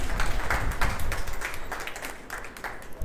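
An audience in a teaching session breaks into a brief burst of scattered clapping that fades within a few seconds.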